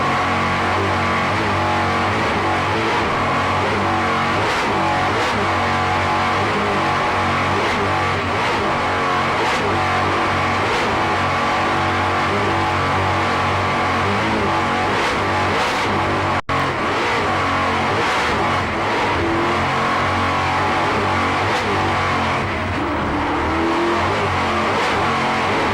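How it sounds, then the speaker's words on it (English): Kurtz Marine racing powerboat engines roar continuously at a 1994 offshore powerboat championship race in Key West, Florida, a loud sustained drone with rising and falling throttle surges and no voices. "Just listen to those Kurtz Marine engines."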